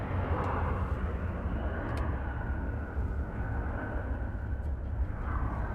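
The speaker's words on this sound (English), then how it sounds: "There goes a jet" A JetBlue jet at Nashville International Airport roars steadily and at moderate distance, a broad continuous engine rumble with no talking.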